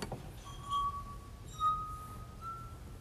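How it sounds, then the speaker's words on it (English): A nearly full water glass struck to give a high note: a clear ringing tone that sustains and decays, struck again about a second later with a brighter ring, over faint room noise. "Now notice this glass, in spite of the fact that it's almost full to the very top, it's the high note."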